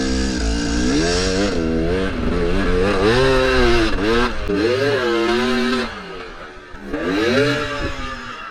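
A KTM 300 two-stroke dirt bike revs hard in a sandpit during a snowstorm, its engine pitch rising and falling in repeated loud, close bursts before easing off briefly and climbing again.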